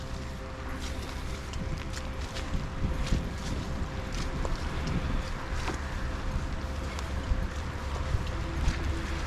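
Heavy rain and strong wind outdoors in Mazères, a dense steady roar of rain and gusting wind buffeting the microphone, with scattered sharper drops or footsteps in mud throughout.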